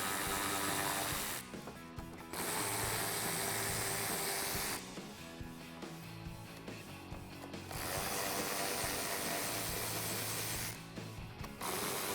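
Ratchet backing out 7mm screws from the black plastic trim of a 2015-2017 Mustang front bumper, in several bursts of rapid close clicking separated by pauses, no talk.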